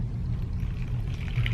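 Breast milk is poured from a container into a storage bag, a soft, faint liquid trickle over a low background rumble for a second or two.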